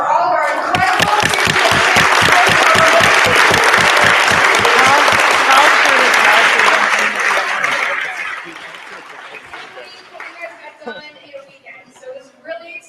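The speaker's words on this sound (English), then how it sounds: "one more round of applause for all of our incredible" A crowd at a hackathon's final presentations gives a loud, sustained round of dense applause lasting about eight seconds, then it fades into scattered claps under people talking.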